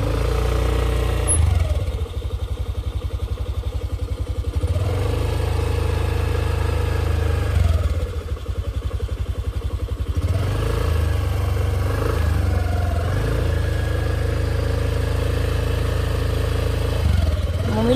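A scooter engine running steadily on the Mumbai–Goa highway, a loud, continuous low drone with several rises and falls in pitch as it speeds up and slows, no talking.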